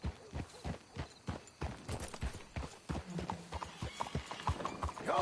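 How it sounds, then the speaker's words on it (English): Steady clip-clopping of horse hooves walking close by in the video game Red Dead Redemption 2, a rhythmic beat with a brief whinny and little talk. "Let's hitch the horses up ahead."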